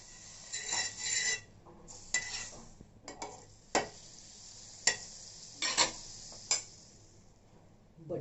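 Butter sizzles in a hot pan while cauliflower paratha roasts, with soft crackling broken by scattered sharper pops and scraping bursts, close and moderately quiet, with no talk.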